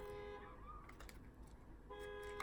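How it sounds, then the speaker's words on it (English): Car alarms set off outside by kids sound as repeated horn-like beeping tones that pause briefly and then return, heard from a distance over low background noise. "The kids think it's cute to set off their parents' car alarms."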